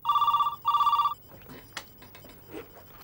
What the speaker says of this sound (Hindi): सर, शाहीन मैडम के लिए फ़ोन है।